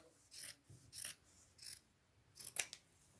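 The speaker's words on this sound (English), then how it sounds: "I'm just going to trim that excess off." Scissors snip through excess fabric on a sewn thrift-store garment, quiet close crisp cuts in a slow rhythm of about five or six strokes, with no talking.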